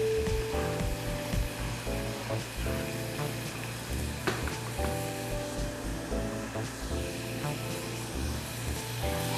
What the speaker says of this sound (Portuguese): Enquanto isso, o bacon tá fritando